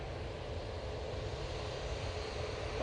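A Eurowings airliner on final approach at Manchester Airport gives a steady, distant engine roar and rumble with no talk.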